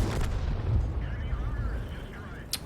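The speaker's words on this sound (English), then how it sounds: "we got a hit and blew him up" A World of Tanks cannon shot destroys an enemy tank: a low, rumbling boom fills the short stretch, with a sharp crack near the end, while faint tonal chatter runs underneath.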